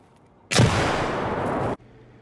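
In a video game, a grenade goes off as one sudden loud blast that roars on for about a second before cutting off abruptly, with quiet before and after.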